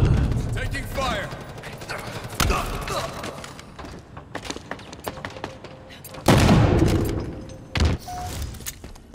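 Bursts of gunfire and thumping impacts from Halo Infinite quick play multiplayer crackle at moderate volume amid game sounds, with a game voice announcing events over the action.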